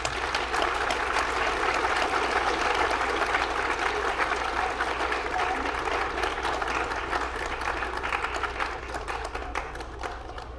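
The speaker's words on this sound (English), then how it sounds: "So let's give all of our completers a round of applause" Sustained audience applause for program completers at a career and technical education awards ceremony, a long even wash of clapping from a large crowd that tapers slightly toward the end.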